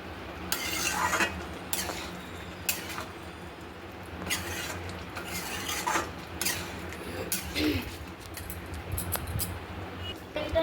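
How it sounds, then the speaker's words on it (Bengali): Soybean curry ingredients with a little ghee get mixed in a pan, with repeated scraping and clinking spatula strokes over a low sizzle, close and fairly loud, no speech. "এই উপকরণগুলো সব একসাথে মিশিয়ে নেব।"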